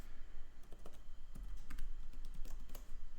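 Keys clatter steadily as a password is typed on a computer keyboard at a Samba/CIFS server setup, a close, quick run of crisp clicks with uneven rhythm and no talk.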